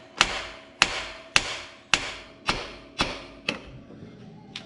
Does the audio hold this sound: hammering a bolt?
yes